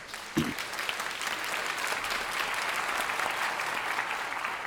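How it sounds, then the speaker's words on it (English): Steady applause from a large audience at a medical symposium fills the room, even and sustained throughout with no voices standing out. "Let's give them a round of applause."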